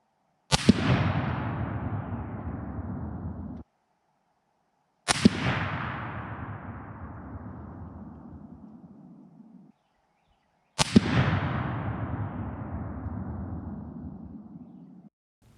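Three loud, sharp rifle shots from a 7x57 or 257 Roberts, each followed by a long rolling echo that fades over a few seconds, spaced about five seconds apart, outdoors with no talking.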